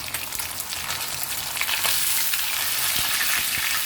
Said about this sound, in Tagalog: Mag-start tayo dito sa pagpiprito ng isda.